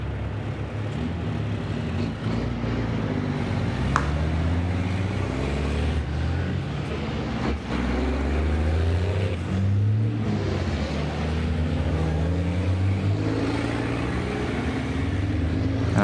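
Racing trucks pulling out of the pit lane at the Misano circuit for second qualifying, several heavy engines droning and rising in pitch together, loud and continuous with overlapping passes.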